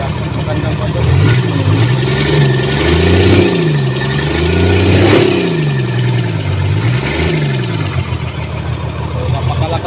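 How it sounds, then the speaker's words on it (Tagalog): A freshly overhauled generator engine with new piston rings and liners revs up and down repeatedly, loud and close, its pitch rising and falling in several surges over a steady idle. "So napakalakas ang makina nito."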